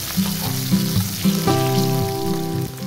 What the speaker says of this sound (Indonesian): Kemudian kita tumis bawang merah, kira-kira 6 siung. Kita tumis sampai wangi.